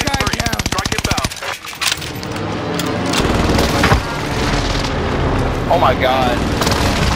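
Airstrike explosions in a video game erupt in a rapid, loud rattling burst followed by booming blasts and rumbling debris, with a player's voice exclaiming over the chaos.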